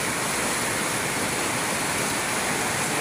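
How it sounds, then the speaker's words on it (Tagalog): A flooded river rushes behind a house during super typhoon Carina, a dense, steady roar of churning water filling the whole clip with constant broadband noise and no pauses. "Ganito kalakas ang ilog sa likod ng bahay namin."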